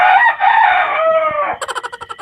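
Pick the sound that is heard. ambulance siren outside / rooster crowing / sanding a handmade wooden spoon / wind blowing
rooster crowing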